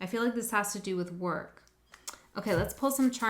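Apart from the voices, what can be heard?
None of the usual background noises is heard.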